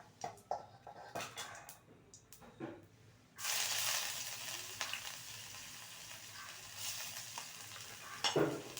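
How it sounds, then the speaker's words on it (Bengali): Ginger paste fried and stirred in mustard oil after cumin seeds, starting with scattered spoon scrapes and light sizzles, then a fuller, steady sizzle with stirring clatter, fairly quiet overall. "আদাটাকে ভালো মতন কষিয়ে নেবো"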